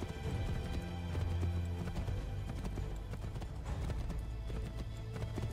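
Horse hooves gallop in Assassin's Creed 3 with a steady rapid clip-clop running under a continuous game soundtrack, alongside a faint neigh, at moderate volume.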